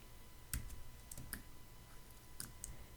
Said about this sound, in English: And then I'm going to hit Command D on the keyboard